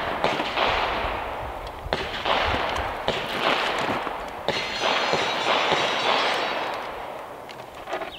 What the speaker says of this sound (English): let's do a mag dump and see how it does on all 10 of them